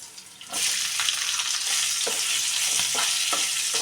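Pieces of hill gooseberry drop into hot oil and start a sudden loud sizzle that continues steadily, broken by a few sharp scrapes and clicks from stirring in the pan, with no voices.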